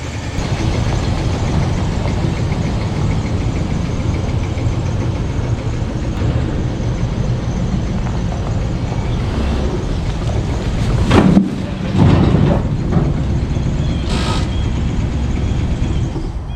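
A 1985 Dodge D150 pickup with a 727 transmission, parked for 19 years, rumbles steadily as it drives around a yard, with a couple of louder thumps and bumps near the end.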